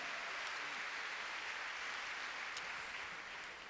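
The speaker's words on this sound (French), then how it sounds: "Encore des applaudissements pour Steve Garda pour la Suisse." Applause from the crowd at the Jumping International de Bordeaux show-jumping arena for Swiss rider Steve Garda, a soft, distant wash of clapping, steady and fairly faint throughout.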